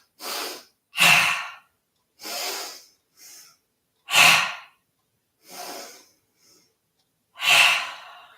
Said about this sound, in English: we're going to take 2 short, strong breaths in. Long breaths in, and then a short breath out.